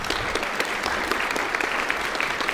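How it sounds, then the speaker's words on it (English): Dense, steady audience applause at a public policy forum, many hands clapping at once in a continuous wash that holds at an even loudness from start to finish, with no voices rising above it. "Give him a round of applause, please."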